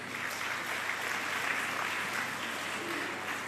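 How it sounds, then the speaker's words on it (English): An audience applauds continuously at an arts event, a dense, even wash of clapping at moderate volume throughout. "A round of applause for that oneness today."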